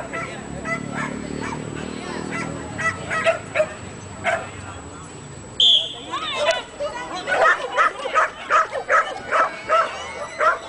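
Dogs barking and yipping during a dog race, several sharp barks near the microphone, with more frequent barking in the second half. People talk and call out around them.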